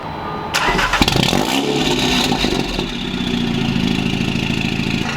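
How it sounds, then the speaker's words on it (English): A car engine in a parking garage cranks and roars to life, revving loudly before settling into a rumbling idle, echoing in the enclosed space. "one more obnoxious loud startup"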